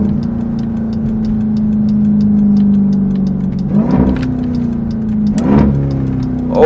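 A Dodge Durango Hellcat engine holds a steady loud drone, then revs up hard twice with sharp rising sweeps and gear-change blips as it accelerates, close and with no one talking.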